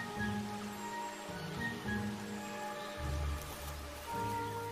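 Rain falls steadily through a forest, a continuous soft hiss of drops on leaves and undergrowth that holds evenly throughout at a moderate, distant level.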